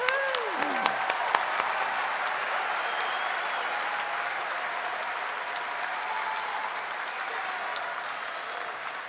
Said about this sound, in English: Please give these students a round of applause.